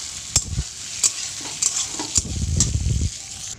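Potatoes with turmeric, cumin, coriander and chilli powder frying in a wok-style pan for a pangas fish curry, stirred with a spatula: sharp scraping clinks at irregular intervals over a steady sizzle, no talk.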